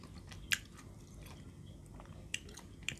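Close-up crunchy chewing of pounded santol salad made with crab paste and eaten with raw cabbage, soft mastication broken by a few sharp crisp bites, with no talking.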